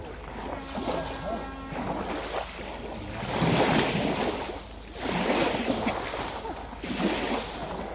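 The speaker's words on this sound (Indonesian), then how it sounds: "Ombaknya besar sekali." Waves wash and surge on the Sea of Galilee in rolling swells that rise and fall every few seconds, with wind buffeting the microphone and a low boat-like rumble underneath.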